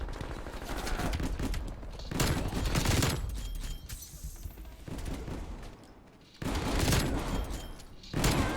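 AK74u firing in Call of Duty Cold War, repeated bursts of automatic gunfire with short pauses between them, loud and close, with the game's background sounds underneath.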